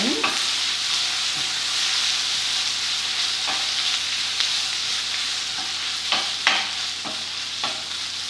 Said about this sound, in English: I'm just going to stir my onions